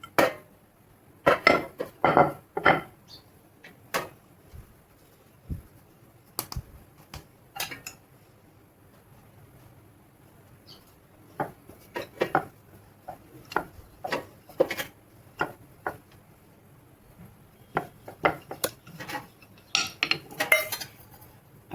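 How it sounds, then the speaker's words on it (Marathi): Spinach puris being rolled out on a board produce scattered wooden taps, rolling rubs and clinks of utensils in irregular bursts, with quiet gaps between them. "आपण आता पुऱ्या लाटून घेऊ."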